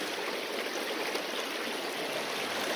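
Creek water flows steadily past a bridge, a continuous broad rushing and trickling wash that stays even and close throughout with no voices.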